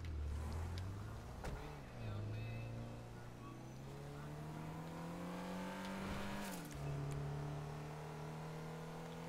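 A car engine drives steadily and pulls up through the gears with rising, shifting pitch, running loud and close for the whole stretch with no talking.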